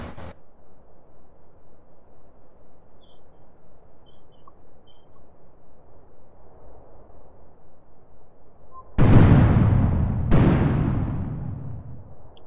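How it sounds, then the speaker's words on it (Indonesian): Explosions in a roleplay video game: two loud, sudden blasts near the end, each decaying over about a second, after a long stretch of low, pulsing engine-like hum. "Meledak."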